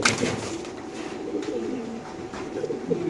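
Racing pigeons coo softly and repeatedly inside a pigeon farm, a low steady murmur of several birds with faint rustling and no talk.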